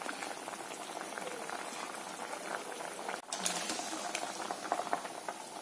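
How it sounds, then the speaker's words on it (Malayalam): A pot of fish curry bubbles at a steady low simmer, soft popping and hissing continuing throughout with a brief clatter near the middle. "മീൻ തിളച്ചു"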